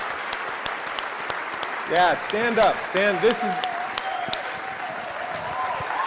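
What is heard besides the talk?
convention audience applause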